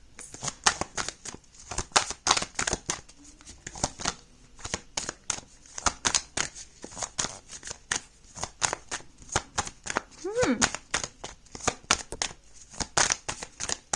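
A deck of tarot cards is shuffled by hand, a close, quiet run of rapid papery riffles and slaps in repeated bursts with short pauses between them.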